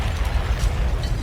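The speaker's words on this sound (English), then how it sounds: "Bro, enough with the explosions." Booming explosion effects pound through a grime freestyle track from a Fire in the Booth session, forming a dense, continuous low rumble with bursts layered in, loud and unbroken for the whole moment.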